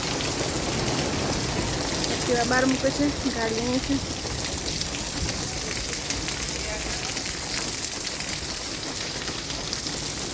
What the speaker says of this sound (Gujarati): વરસાદ જુઓ કાંઈ એટલો બધો વરસાદ